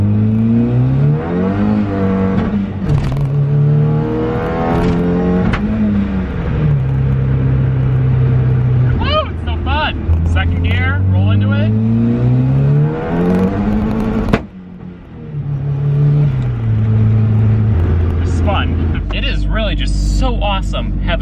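A Mazda Miata engine revs hard through repeated flat-foot shifts with launch-control style limiter, loud and close, rising and dropping in pitch several times while a voice talks over it.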